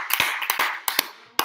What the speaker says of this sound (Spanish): Un aplauso para mi compa.